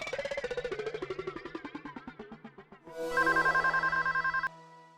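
A telephone rings in a home-shop setting: a sequence of repeated electronic tones steps downward, then a sustained, brighter pulsing ring holds steadily until it cuts off abruptly near the end, with no talking.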